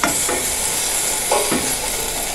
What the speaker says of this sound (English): So here I'm sauteing some seasoning and some vegetables, add tomato, added some garbanzo beans.